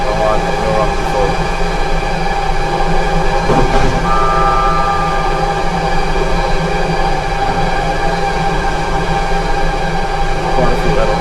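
A train running on the Tokaido Line in JR East Train Simulator, a steady loud rumbling drone of wheels and motor that continues throughout with a brief tonal beep partway through.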